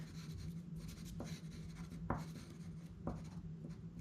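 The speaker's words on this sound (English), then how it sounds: "I'm using a pastel dome pencil, blue for the sky" A blue pastel pencil drawing on paper for a miniature piece of art, soft steady scratching strokes close up, with a few sharper taps along the way and a faint low hum underneath.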